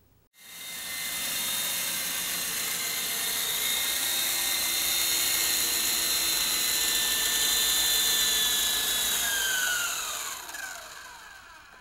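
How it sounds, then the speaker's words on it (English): A Blade CX2 radio-controlled helicopter flies close by, its rotors and motor making a loud, steady high-pitched whine that holds for about ten seconds, then drops in pitch and fades as it winds down. "The Blade CX2 is a fabulous little helicopter."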